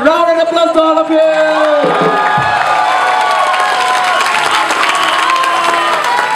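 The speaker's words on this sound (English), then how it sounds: "And round of applause to all of you." A crowd at a lively call-and-response event bursts into loud cheering, whooping and applause after a sung chant, the clapping and shouts filling the space for several seconds.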